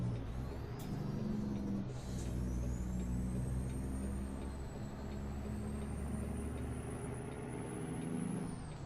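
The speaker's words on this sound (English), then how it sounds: "This truck has a really nice sound" A heavy truck engine with a turbo rumbles steadily in American Truck Simulator while driving from Oxnard to Santa Cruz. A constant low drone sits alongside a rising and falling turbo whistle, with no talking.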